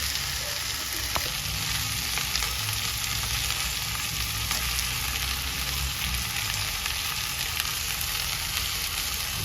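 Okra frying in a pan gives a steady, loud, close sizzle that holds evenly throughout, with a few faint clicks of stirring and no talking.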